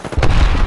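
A grenade goes off in Apex Legends, a loud, close, sudden boom with a deep rumbling tail that fills the brief moment.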